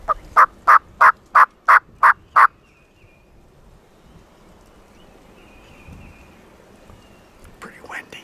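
A wild turkey in a Missouri field gobbles in a rapid string of seven loud, evenly spaced bursts, then goes quiet under soft wind noise.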